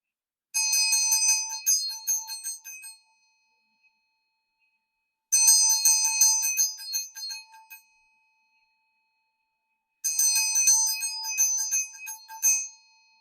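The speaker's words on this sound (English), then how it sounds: "I'm going to cleanse the space with this Vajra bell" A handheld Vajra bell is struck three times to cleanse a space, each bright metallic ring shimmering and fading over a couple of seconds before a pause, clear and close in an otherwise silent room.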